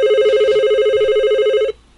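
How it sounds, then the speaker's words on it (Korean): A telephone rings in a Korean radio comedy story, one steady, loud electronic ring burst that cuts off abruptly after less than two seconds. "저에게 전화가 한 통 오는 겁니다"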